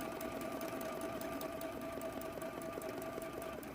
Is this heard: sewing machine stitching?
yes